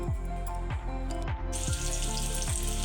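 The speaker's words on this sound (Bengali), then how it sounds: "প্রথমে তেলের মধ্যে আলুগুলোকে দিয়ে দিলাম।" Potatoes frying in hot oil in a wok, a loud continuous sizzle with bubbling crackle, close up, with no voices.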